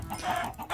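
Chickens cluck in the Minecraft video game, a brief burst of soft, short clucks over faint background sound, ending in a slightly louder cluck.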